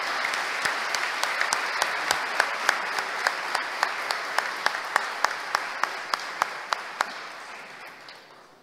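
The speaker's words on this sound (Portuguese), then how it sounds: "Uma salva de palmas para essas 2 empresas" Steady applause for two honored companies at a formal solemn session in Maceió, with a few sharper individual claps standing out over continuous hand-clapping that slowly fades toward the end.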